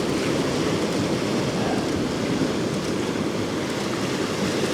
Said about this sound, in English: these waves are amazing